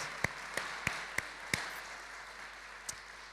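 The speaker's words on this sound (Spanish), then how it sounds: "Le damos un aplauso Andrés." A few sparse, isolated hand claps in a hall after a speaker is thanked, about five spaced claps followed by one last faint one, quiet and without crowd noise.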